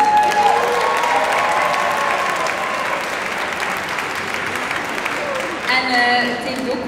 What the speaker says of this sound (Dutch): Dus dikke applaus voor hen.